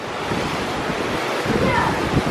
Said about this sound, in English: You can really see the waves rolling in out there in the ship.